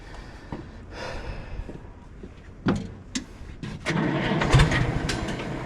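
An engine is restarted during a G1050 lp fitting job, with a cranking catch and low running rumble rising near the end amid clunks and bumps.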